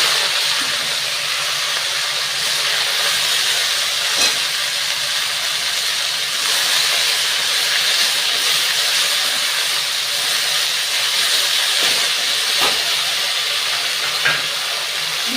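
Chopped greens hit hot oil with ginger and green chilies in a pan, giving a steady, bright sizzle and hiss that carries on evenly and alone, with a few small pops.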